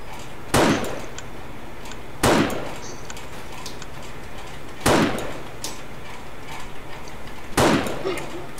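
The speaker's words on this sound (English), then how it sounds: "I'm gonna try to shoot a bunch of these before they actually turn into gore" Gunshots fired in the video game 7 Days to Die, four sharp, loud cracks spaced a couple of seconds apart over a steady low background hum.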